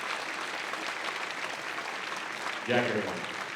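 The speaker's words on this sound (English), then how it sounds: "Please, Ilarion, a round of applause for you." Applause from a seated audience at a summit of first ladies and gentlemen, a steady dense wash of clapping that holds evenly throughout, with a voice breaking in near the end.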